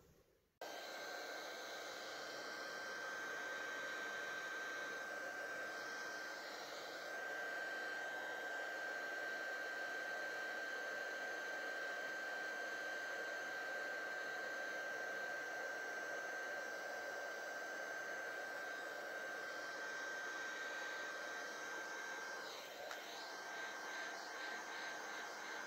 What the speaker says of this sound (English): with my heat tool and just heat that up.